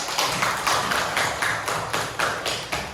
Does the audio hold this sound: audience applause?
yes